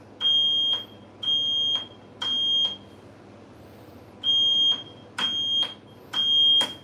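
A smoke alarm blares a series of loud, high-pitched beeps, three in a row, a short pause, then three more, close and insistent.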